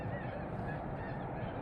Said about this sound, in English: Oh man, there's geese.